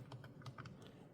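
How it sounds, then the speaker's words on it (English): Soft, rapid keystrokes on a Clicks keyboard while a short test word is typed, a quiet run of small clicks with no other sound. "So now if I start typing test,"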